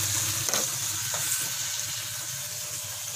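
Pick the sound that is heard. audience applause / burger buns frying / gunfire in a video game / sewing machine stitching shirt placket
burger buns frying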